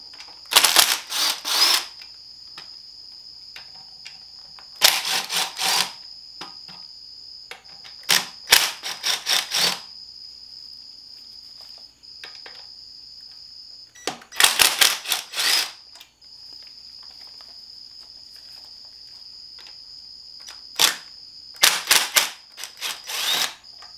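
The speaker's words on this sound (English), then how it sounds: "So we're going to get our impact and take those out." An impact wrench taking six bolts out of a 545RFE transmission during a teardown, firing in sharp rattling bursts of a second or two separated by quiet pauses, close by with a steady whine underneath.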